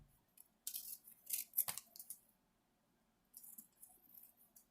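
Scissors snip through paper to cut out a craft fish tail, with several quick crisp cuts in short bursts, close and clear, then a pause and another run of snipping, with no talking.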